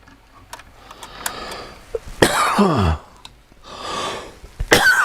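A person coughs a couple of times close up, harsh and throaty bursts separated by brief pauses, with small clicks and handling noises around them.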